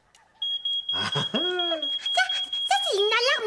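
A household smoke alarm emits a steady, piercing high-pitched tone that runs continuously, with children's voices talking and exclaiming loudly over it.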